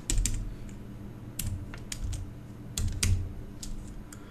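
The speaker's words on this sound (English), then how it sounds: "quickly type that address here" Quick keystrokes on a computer keyboard tap out an address in irregular bursts of crisp clicks, close to the microphone, with no voices over them.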